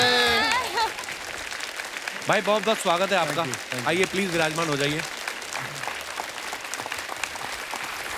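A television comedy talk-show studio audience claps loudly to welcome a music-director duo. The sustained, full-room applause runs underneath a host's voice, with singing-like vocal tones briefly rising over it.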